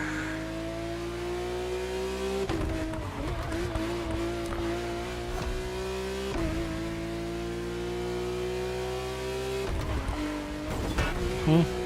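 A Lamborghini tearing through The Crew Motorfest: a steady high engine drone that rises in pitch through the gears, breaking off at each shift, with brief tire scrubs. Talk runs over it throughout.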